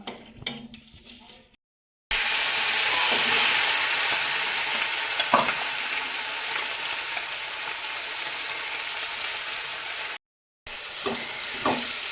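Panch phoron spices crackle and sizzle in hot oil in a village kitchen, a loud steady hiss broken by brief silences and a few scraping stirs.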